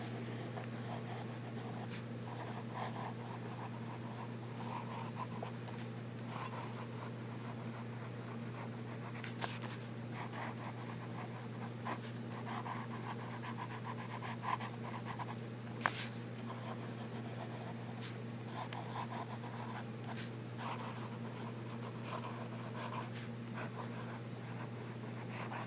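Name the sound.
Jim Hinze custom pen writing on paper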